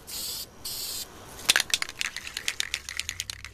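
Steady hiss of a spray paint can on a valve cover for about a second, a pause, then a shorter hiss, followed by a run of light clicks and taps.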